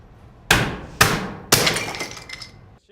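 Three sharp hammer blows land about half a second apart, each cracking and splintering wooden door shims up close as they are broken off flush with the frame.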